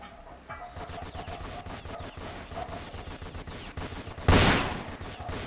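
Minigun firing in a Roblox game, a rapid continuous burst of electronic gunfire with evenly spaced shots, ending in a louder blast near the end, no talking.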